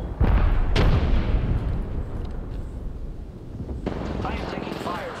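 A frag grenade and an Arc Star go off in a video game firefight, loud booming blasts and crackling bursts packed close together, with a voice talking underneath.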